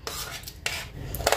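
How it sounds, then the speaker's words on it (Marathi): Chopped chikoo, mango and pomegranate seeds are spooned into a bowl of chilled fruit custard, with quick metal spoon clinks and scrapes against the dish up close. "आता इथे मी घालते चिक्कू, आंबा, डाळिंबाचे दाणे"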